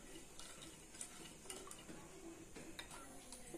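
French toast batter with sugar and vanilla essence being stirred in a bowl, giving faint, steady scraping and light clinks of a utensil against the dish.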